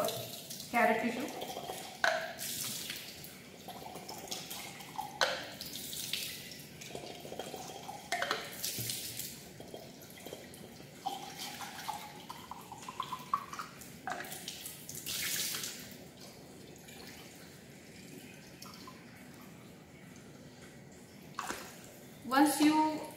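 A carrot explant is rinsed under running tap water in a lab sink to wash off detergent, the stream splashing and trickling unevenly with bursts of louder gushing and dripping.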